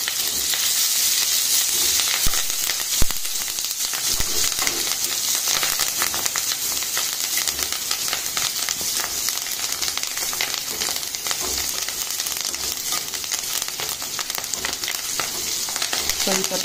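Green chilies and curry leaves fry loudly in a crushed-garlic tempering, a dense, continuous crackling sizzle with scattered sharp pops that carries on without a break.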